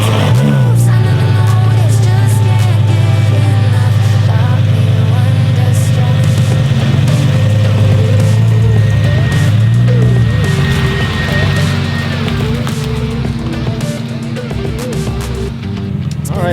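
A car engine hums steadily with low rumble and road noise, loud and continuous, easing slightly toward the end.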